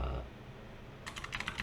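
Quick keystrokes on a computer keyboard arrive in a short burst of light clicks after a second of near quiet, close and faint.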